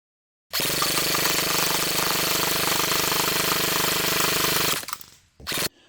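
An airsoft AK47 electric gun fires fully automatic in one long, loud, continuous rattling burst at a very high rate. It cuts off, then a second brief burst follows. No one speaks.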